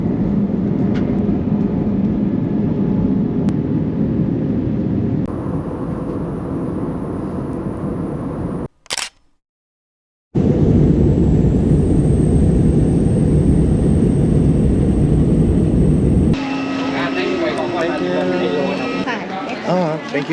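A passenger jet's cabin engine noise on a flight to Ho Chi Minh City: a loud, steady broadband roar with a brief cut near the middle, then more drone with faint voices underneath.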